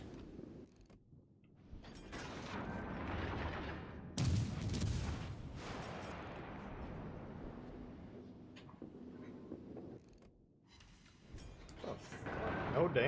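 Ship guns fire in World of Warships Legends, a heavy booming blast followed by rolling mechanical rumble and creaking, with people talking over the game sounds.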